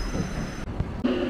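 A local train on the CBD Belapur to Uran line pulls into a platform with a steady rumble, broken by a couple of brief dips and a thump, then a rising wheel squeal near the end.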